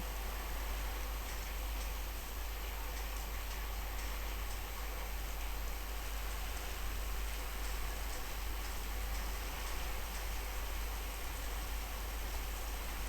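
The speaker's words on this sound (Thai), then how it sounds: "ฝนหนักมากนะจังหวะนี้" Heavy rain in the video game Fortnite pours in an unbroken, even hiss with no letup, a constant wash of noise throughout.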